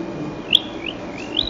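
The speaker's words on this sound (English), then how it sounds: "Can I just play the bird song?" Recorded birdsong played back over a speaker, a few thin high chirps and whistled notes over a low background hum, clear and close.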